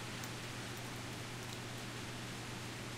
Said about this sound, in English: Oh, this frickin' rain.